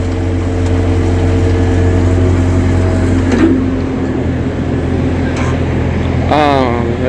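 A Bobcat 4x4 skid steer loader's hydraulic engine runs at a steady, loud idle, its continuous drone and low harmonic hum filling the whole stretch, with a few brief mechanical clanks and a rising whine near the end.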